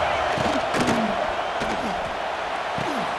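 A home crowd at a South Carolina versus Alabama college football game roars steadily throughout the stadium, a dense wash of cheering with a commentator's voice talking over it.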